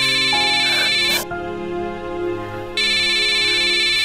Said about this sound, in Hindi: अनिकेत का फोन आ रहा है